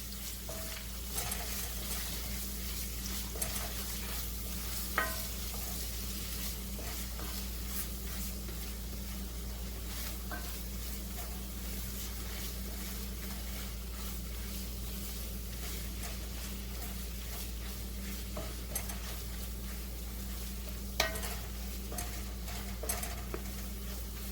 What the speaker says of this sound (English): we're going to stir this all up and mix it